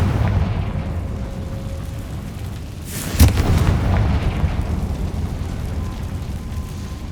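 A Confringo fire spell goes off in Hogwarts Legacy with a sudden loud blast partway through, breaking over a steady layer of game ambience and rumble, then fading back into the background.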